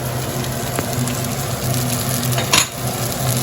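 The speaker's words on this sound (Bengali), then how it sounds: "হালকা ফ্রাই হলেই সবজিগুলো আমি দিয়ে দেবো এক এক করে" Carrots and beans sizzle gently in a hot pan for hot and sour chicken soup, giving a soft continuous frying hiss with one brief louder scrape of stirring.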